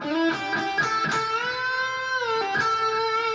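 An electric guitar lick with a string bend held and released, then a pull-off to a lower note, played alone and clearly.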